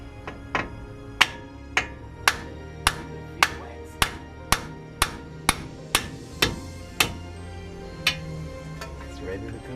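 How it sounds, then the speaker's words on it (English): Repeated sharp hammer blows on a broken car wheel stud, about fifteen evenly spaced strikes ringing out close by at a steady rhythm. "take a hammer to it."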